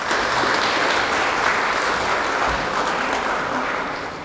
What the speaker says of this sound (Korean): 수상하신 교직원분들께 다시 한번 박수 부탁드립니다.